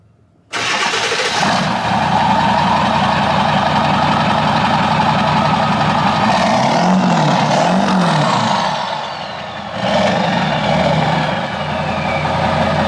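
Ford 7.3 Powerstroke diesel truck starting cold: an abrupt crank and catch, then a loud, rough, clattering idle that holds steady, with a brief dip and rise in revs near the end.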